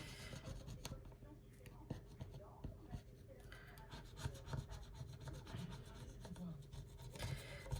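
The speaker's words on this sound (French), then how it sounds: "Je gratte toutes les pastilles." Coin-like scraping as spots are rubbed off a scratch card, a faint, close, continuous rasping in short repeated strokes with quiet background noise.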